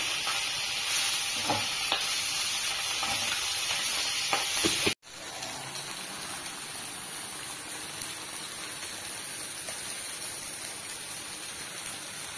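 Bele fish and cauliflower fry in a pan with a steady, close sizzling hiss that runs without pause. It cuts out abruptly for a moment partway through, then resumes just as strong.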